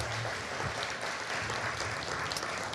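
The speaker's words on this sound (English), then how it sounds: "Please give him a hand of applause." An audience at an event celebrating Indian culture claps for a senator, a soft, dense wash of steady applause throughout at a moderate distance, with no speech over it.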